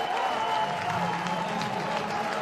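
Halifax rugby league fans at a home match against Featherstone cheer and applaud a successful kick, a sustained loud burst of clapping and crowd noise with a commentator's voice faintly underneath.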